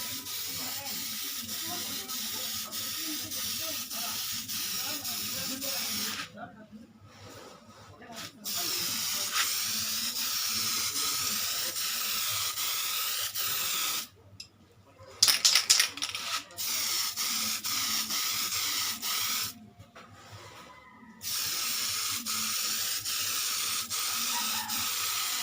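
Tamiya spray paint can laying a clear coat over a Tamiya Lunchbox model, heard as long, close, steady hissing bursts separated by brief pauses where the nozzle is released.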